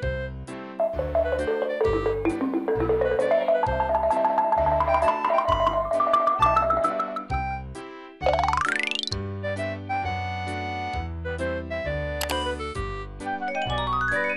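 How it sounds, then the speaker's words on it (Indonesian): Ringing tuned kulintang gong chimes play quick running melodic lines over a steady low pulse, with a sweeping rising glissando midway, no voices. "Ini suara kulintang."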